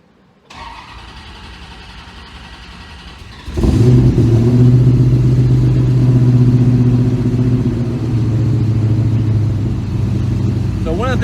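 A car engine controlled by a Holley Terminator X fires up on its first start: an electrical whir, then the engine catches and settles into a loud, steady, rumbling idle.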